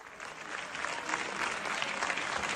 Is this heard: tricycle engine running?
no